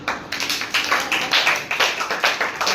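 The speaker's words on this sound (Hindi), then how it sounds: "ताली बजाइए" A group claps together in a classroom, giving a rapid, roughly regular run of sharp, bright claps close by and with no talking.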